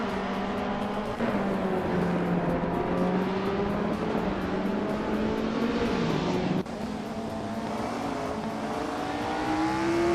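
A Skoda Octavia race car in a racing video game drones with a steady, high revving engine tone that rises and dips with gear changes, continuous and close throughout with no talk.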